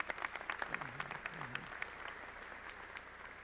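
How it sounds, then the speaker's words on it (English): Applause from a graduation audience at a medical school commencement keynote, many hands clapping in a steady patter that fades gradually, with a voice briefly audible underneath. "Give her another round of applause, would you please?"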